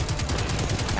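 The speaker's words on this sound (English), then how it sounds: "Just keep shooting the bad guys." Steady automatic gunfire in the video game Destiny 2, a fast even rhythm of close, loud shots running the whole time, with a brief brighter burst at the end.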